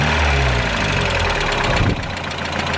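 A Mazda Miata engine with lifter ticks runs close by, a steady mechanical drone with a ticking knock that dips slightly near the end, alone with no talking.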